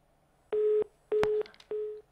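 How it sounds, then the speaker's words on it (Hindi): Three short, steady beeps of a disconnected telephone line on a TV phone-in show, evenly spaced and clear, with no one speaking. "विजय से भी संपर्क हमारा टूट गया है"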